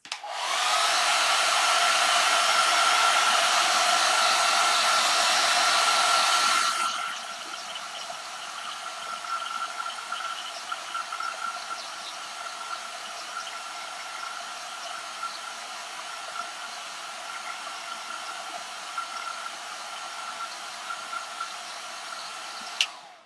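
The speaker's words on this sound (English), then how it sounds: "let's just hit this area with the hairdryer again" A hairdryer blows loudly for about seven seconds over a watercolour painting, then cuts out, leaving a quieter steady hum with a thin whine for the rest.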